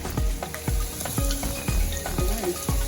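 Green beans frying in a home kitchen pan, seasoned with salt and pepper, a steady close sizzle with intermittent clinks and stirring knocks.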